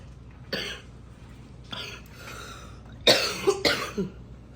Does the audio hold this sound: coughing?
yes